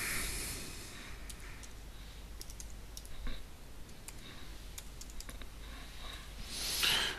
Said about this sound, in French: Et de là, on va écrire le mot de passe.